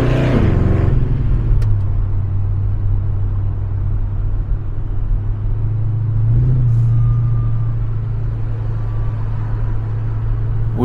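A retiree's custom-built classic car idles nearby with a loud, steady low engine rumble and throaty exhaust drone, plus a brief rise in revs partway through; no talk.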